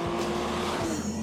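A 2011 Mercedes-Benz SLK 350 accelerates hard, its engine note rising sharply before a quick shift dip and a second surge, loud and close, with no voices.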